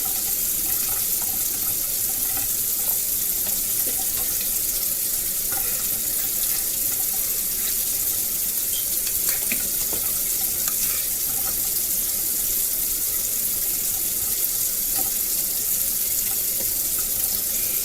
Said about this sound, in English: Leaving that water running.